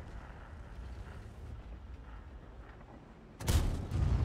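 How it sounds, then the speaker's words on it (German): A tank cannon fires in the World of Tanks game on the Ensk map: one sudden, heavy boom with a rumbling tail breaks in after several seconds of low, quiet ambient noise. No one speaks. "Der hat geschossen."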